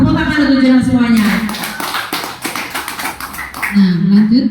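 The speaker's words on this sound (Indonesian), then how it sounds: "Tepuk tangan untuk jalan semuanya" Audience at a company presentation claps in a short burst of rhythmic taps, with a speaking voice before and after the clapping.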